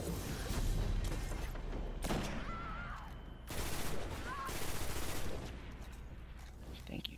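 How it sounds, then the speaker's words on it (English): Sniper rifle shots ring out in an online player-versus-player shooter game, with a couple of sharp, booming reports standing out from continuous in-game background noise. "Shooting them sniper shots."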